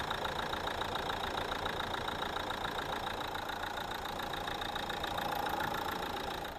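A 2018 Nissan Terrano idles with its engine bay open, giving a steady, even mechanical hum and a rapid, regular ticking, close up and fairly quiet, with no voices.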